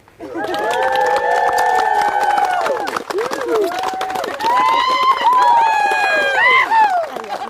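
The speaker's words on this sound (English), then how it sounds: "And you may applaud" Wedding guests cheer and whoop right after the couple's kiss, with loud rising and falling shouts over scattered clapping throughout, briefly dipping near the middle before swelling again.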